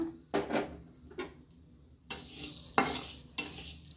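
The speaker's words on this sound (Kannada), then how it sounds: "ಸೊ ಒಂದೊಂದು ಫ್ರೈ ಆದ ತಕ್ಷಣ ನಾನಿದು ಒಂದೊಂದನ್ನೇ ಹಾಕ್ಕೊಳ್ತೀನಿ ಇವಾಗ ಇದಕ್ಕೆ ಇವಾಗ ಉದ್ದಿನ ಬೇಳೆ ಕೂಡ ಹಾಕ್ಕೊಳ್ಳೋಣ" Urad dal fried in a pan for bisi bele bath powder, stirred with a spatula: sharp scraping strokes come every half second or so over a soft sizzle, close and clear, with no talking.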